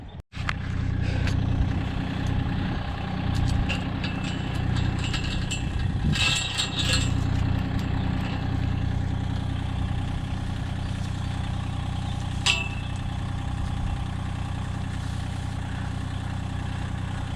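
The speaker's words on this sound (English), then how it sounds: "I'm gonna try to get the tractor hooked onto one of these posts here" A tractor engine idling with a steady low rumble throughout, plus brief metallic clanks and a sharp clink near the end.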